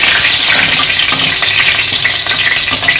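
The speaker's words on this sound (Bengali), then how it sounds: "এবার আমি এখানে 3টে শুকনো লঙ্কা দিচ্ছি আর এই কালো জিরাটা ফোড়নে দিয়ে দিলাম" Three dry red chillies and black cumin crackle in hot oil as a tempering for a potol posto dish, producing a loud, dense, continuous sizzle that sounds very close.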